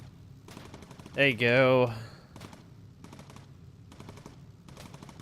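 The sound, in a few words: machine gun fire from bomber turret in video game Bomber Crew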